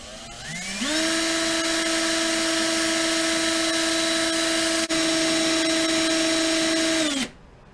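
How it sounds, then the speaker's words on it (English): A power drill spinning a vehicle speed sender spins up and holds a steady high whine for several seconds, with one brief dip, then winds down abruptly. "I've got the speed sender on a drill."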